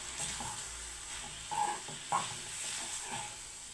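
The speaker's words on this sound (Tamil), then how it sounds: "எல்லாத்தையும் சேர்த்துட்டு நல்லா மிக்ஸ் பண்ணி லைட்டாக வதக்கி" Soft sizzling of spices sautéing in a hot pan, broken by a few scraping stirs of a spoon every second or so, quiet and close.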